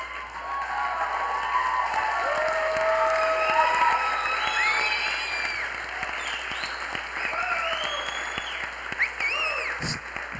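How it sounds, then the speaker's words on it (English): An audience at a cultural heritage symposium gives a standing ovation, sustained dense applause with whoops and cheers rising over it, a full room of clapping that continues for several seconds before thinning slightly near the end. "one of the ways in the Western culture that we show gratitude is to stand up and cheer. That's called a standing ovation"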